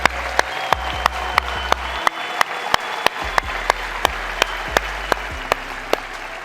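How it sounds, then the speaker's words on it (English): Audience applause from a crowd at a large live motivational event, steady dense clapping throughout, fairly loud and close, with no talk over it. "please stand up so I can clap for you and so people can clap for you"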